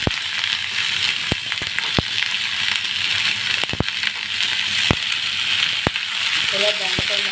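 Ivy gourd pieces frying in oil in a pan, a steady close hiss of sizzling with scattered sharp pops and clicks of stirring throughout.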